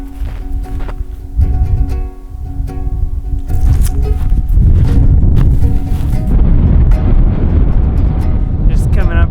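Strong wind buffets the microphone on an exposed viewpoint above a basin in Kings Canyon National Park, a loud roaring rumble that builds and persists, with footsteps and some talking in between.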